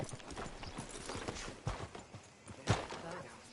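Horse hooves clip-clop at a walking pace, faint and uneven, with a couple of sharper knocks, under quiet voices in a video game.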